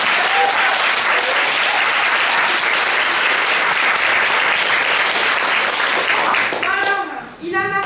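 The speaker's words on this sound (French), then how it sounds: "un tonnerre d'applaudissements pour Lisa" Thunderous applause for Lisa at an improvisation theatre workshop show, loud dense clapping from a full audience that carries on steadily, then dies away as a voice starts speaking.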